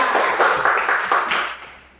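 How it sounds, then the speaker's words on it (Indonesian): Classmates in a school classroom clap together in a short round of applause, a dense wash of hand claps that is loud at first and then fades away. "tepuk tangan dulu teman-teman sekalian"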